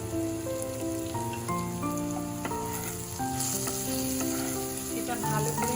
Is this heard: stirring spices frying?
yes